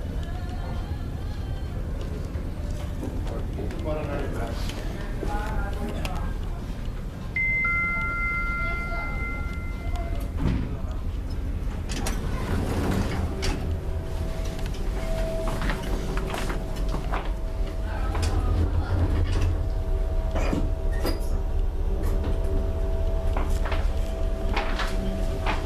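KONE Marine elevator aboard the ferry MS Viking Grace, with doors sliding and clunking, a short electronic chime, then a steady low hum of the car moving between decks, heard up close.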